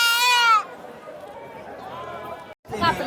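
A loud goat bleat opens at a livestock market, followed by a murmur of distant crowd chatter, then another bleating cry near the end.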